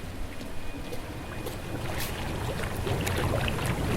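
Constant bubbling and gurgling water from a water feature in a canal churns close by, a dense frothy rush with no voices over it.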